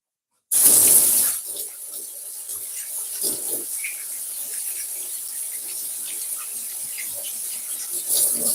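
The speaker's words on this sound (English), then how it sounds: "I just wash my hand." A kitchen tap gushing into a sink during hand washing, starting with a sudden loud splash and settling into a steady hiss of running water with small rubs and splashes throughout.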